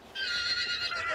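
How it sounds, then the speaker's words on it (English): A horse whinnies once, brief and moderately close, in the video game Hunt: Showdown. "Shut up, horsey."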